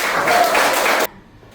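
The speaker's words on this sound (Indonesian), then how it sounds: "Tepuk tangan dulu." A class of children clapping their hands together in a classroom lesson, a loud, dense burst of applause that stops abruptly about a second in, leaving near silence.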